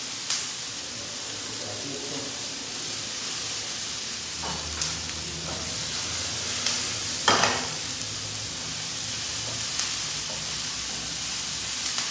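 Onion frying for tacos in a pan, a steady soft sizzle and hiss with occasional clacks of a utensil stirring, fairly quiet and continuous with no voices.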